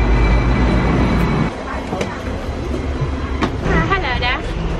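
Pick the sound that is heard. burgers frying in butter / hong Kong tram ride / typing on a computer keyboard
hong Kong tram ride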